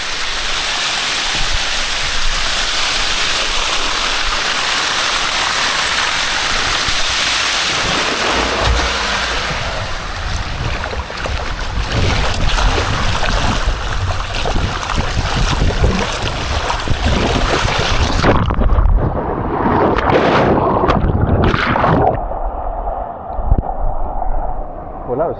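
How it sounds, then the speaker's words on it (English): Rushing water pouring down a resort water slide at a beachfront hotel in Hua Hin, a loud continuous splashing roar that rises midway and ends in choppy bursts of splashes. "I'm going to get this water slide to go."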